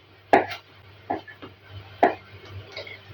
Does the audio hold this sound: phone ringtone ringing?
no